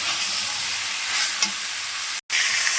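Fried cauliflower and potato stirred into sizzling korma masala, giving a loud, dense, continuous sizzle close by with a brief clunk and a short cut to silence near the end.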